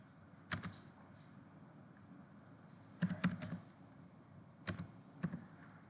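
Typing on a computer keyboard while entering a command, with short clustered bursts of clicky keystrokes separated by pauses, close and fairly quiet against a faint hum.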